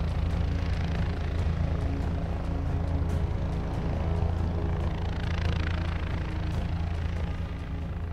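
A supply and rescue helicopter runs at Lukla airport in Nepal's Everest region, producing a loud, steady rotor thump and engine drone that holds constant and near without pause.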